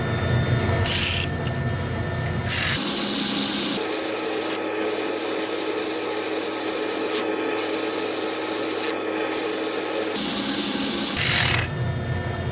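A power tool tightens wheel bearing bolts on a 1999 Porsche 911 (996) Carrera, a loud continuous grinding whir at close range that shifts pitch in stages over about ten seconds before ending, with no talking.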